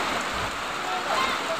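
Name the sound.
heavy rain falling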